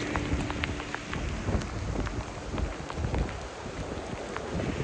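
Heavy, steady rain pours down close by on the Byron Glacier Trail in Alaska, a dense rushing hiss dotted with individual drops striking surfaces, with no voices.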